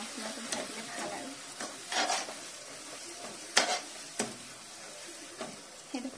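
Masala fries in a pan for sesame meat, a soft continuous sizzle broken by repeated stirring scrapes and occasional sharper clinks of the spoon.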